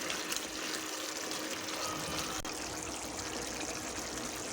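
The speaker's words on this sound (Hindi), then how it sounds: "फिर इसमें पानी ऐड करेंगे।" Water being poured into a pot of taro and meat curry, a steady, continuous trickling pour heard close up and alone for several seconds.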